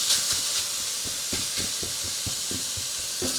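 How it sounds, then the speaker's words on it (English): Hamburger meat cooking in a pan, with a steady, loud sizzling hiss under a series of soft, irregular low taps as the meat is broken up. "So we have the hamburger cooking here in the pan"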